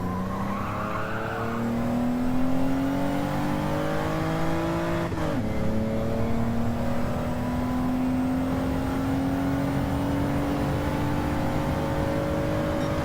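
Mitsubishi GTO engine in the racing game Gran Turismo 7, a steady rising drone held in second gear, with one brief gear shift dip midway before the pitch climbs again, loud and continuous without talk.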